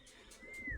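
A homing racing pigeon arriving back at its loft gives a few soft, low coos close by, the brief murmurs rising at the end over quiet outdoor background with faint chirps.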